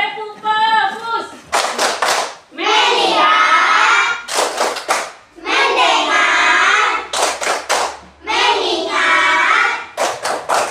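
Schoolchildren in a fourth-grade classroom clap a rhythmic focus clap in loud, tight bursts between their chanted words, led by the teacher's voice.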